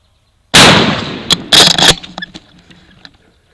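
A single loud shotgun blast fired at a turkey in an outdoor hunt, a sharp broadband crack followed by a second burst of echoing rumble that decays over about two seconds, with no talk.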